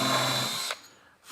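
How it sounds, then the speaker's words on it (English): A power drill bores a hole through an undermount drawer slide drilling guide, a loud whirring burst that stops abruptly, then a brief quiet before the motor briefly starts again. "drill your other hole"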